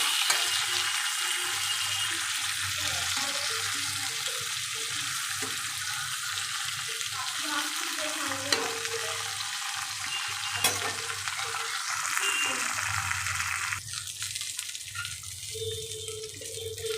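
Hilsa fish patori wrapped in leaves fries steadily in a pan, a continuous close sizzle with faint stirring and scraping touches throughout.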